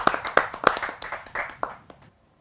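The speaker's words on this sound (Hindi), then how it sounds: "प्रयागराज से पधारी हुई प्रीता वाजपेयी जी को। आप सबकी जोरदार तालियों के माध्यम से।" Scattered, uneven audience clapping at a Hindi poetry gathering (kavi sammelan) as a poet is welcomed, a few sharp close claps standing out before it thins and stops.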